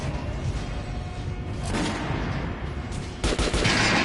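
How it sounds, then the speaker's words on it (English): Loud, dense video-game gunfire hits armored targets in continuous rapid bursts, with a heavier burst near the end and no voices. "Now shoot the armored. The difference is going to take more bullets."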